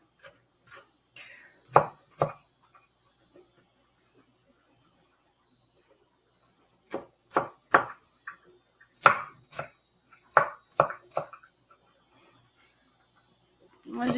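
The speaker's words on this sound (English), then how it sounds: "Normally I would put this in a food hand chopper, but I just decided to chop it by hand today." Vegetables such as onion and tomato chopped by hand with a knife, sparse clusters of sharp knife taps on a board separated by quiet pauses, close and clear.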